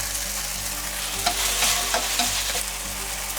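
Vegetables are stir-fried in a pan with about two tablespoons of oil, producing a loud, close sizzle with scraping stirs and occasional crackles and no speech.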